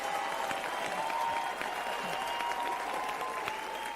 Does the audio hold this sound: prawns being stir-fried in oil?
no